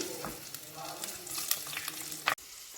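Cut green chillies fry in a pan for fried rice, giving a low steady sizzle with light stirring clatter and a sharp clank near the end.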